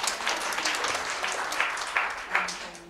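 An audience in a church gathering breaks into scattered applause, a moderate burst of clapping with louder swells, close by and with a little talk mixed in.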